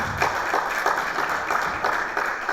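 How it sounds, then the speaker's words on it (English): Audience applause at a blockchain community-building panel event, a dense continuous wash of many hands clapping, steady and fairly loud throughout with no talk over it. "You guys give me a round of applause, man."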